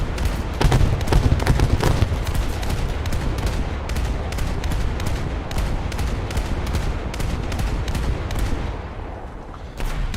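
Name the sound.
naval gunfire in a naval video game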